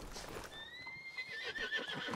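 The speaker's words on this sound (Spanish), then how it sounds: "ya apareció el caballo" A horse in the western video game RedM, set around Blackwater, gives a clear, close whinny with high wavering tones lasting about a second. Soft hoof clip-clop runs underneath.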